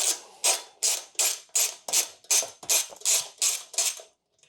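Socket wrench ratcheting on screws while an Atari Millipede cocktail arcade cabinet is taken apart: ten or so crisp, evenly spaced clicking bursts, close and fairly loud, with no talk over them.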